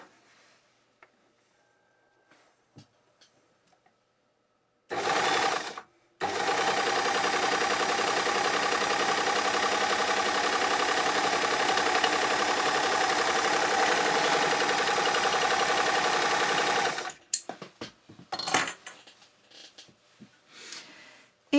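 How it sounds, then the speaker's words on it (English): An overlocker sews a single line of stitching, a loud even mechanical whirr that starts with a short burst, pauses briefly, then runs continuously for about eleven seconds before stopping, followed by a few small clicks. "Let me just do a single line of stitching."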